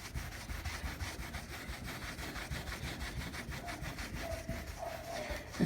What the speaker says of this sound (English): That same towel, terry cloth. And I'll just go back and forth.